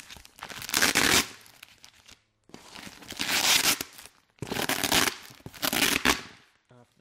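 Packaging covering a box of hobby goods is torn and ripped open in four loud crinkling bursts, close up, separated by brief pauses.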